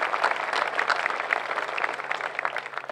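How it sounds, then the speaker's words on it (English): Audience applause at Irvine's 2017 Memorial Day ceremony, a dense, steady wash of many hands clapping for about three seconds with no talk over it. "They deserve applause."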